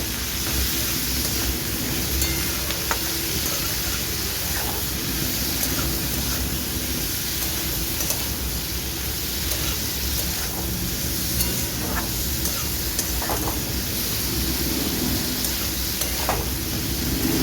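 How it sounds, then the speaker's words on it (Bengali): Yardlong beans and potatoes fry with turmeric in a pan over low flame, a steady soft sizzle with faint stirring scrapes and a hissy noisy background. "হলুদটা দিয়ে আরও বেশ ভালো করে বরবটিটা ভেজে নেব"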